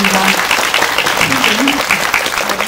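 Audience clapping at a film screening's guest talk, continuous and fairly loud, with voices talking over it.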